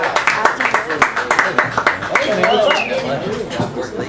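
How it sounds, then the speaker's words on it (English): An audience applauds for Phoebe Bradbury: scattered, uneven hand claps with chuckles and voices mixed in, fairly close, thinning out toward the end. "Let's have a big round of applause for Phoebe Bradbury."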